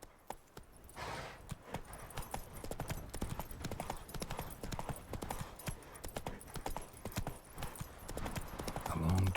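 Horse Roach trotting in The Witcher 3, hooves clip-clopping in a steady, fast rhythm throughout, loud and close, with occasional light gear or ambient sounds in the game world behind.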